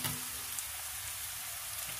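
Minced garlic sizzles in a pan for chicken bopis, a steady, close, hissing crackle with no voices.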